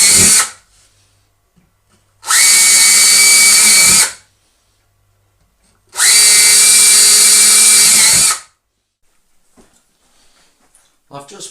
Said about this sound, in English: this is where I want to drill my holes, the pilot holes, my screws